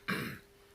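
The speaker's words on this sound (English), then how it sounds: "No, that wasn't a corona cough." A single short, close throat-clearing cough from a person at a microphone, heard alone and fading quickly.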